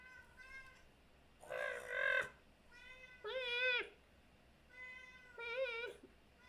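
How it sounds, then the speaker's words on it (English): A cat meows indoors in four separate drawn-out calls, fairly close and clear, with short quiet gaps between them. "Oh no, the cat starts again."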